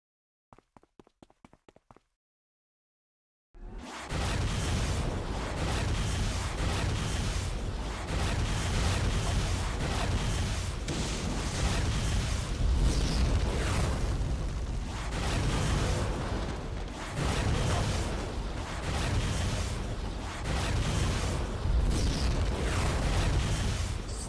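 Explosions fill a City of Villains fight in Port Oakes with continuous loud booming and crackling bursts that follow a brief run of faint clicks and a moment of silence.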